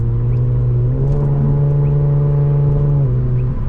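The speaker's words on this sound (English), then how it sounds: "All the exhaust noise that you're hearing is inside the cabin, now with the heat on and the windows closed" A tuned Infiniti Q60's exhaust drones deep and loud inside the closed cabin, its pitch stepping up as the car accelerates through a gear change before settling.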